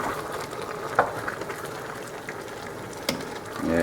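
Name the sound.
stirring squash and swiss chard cooking in pan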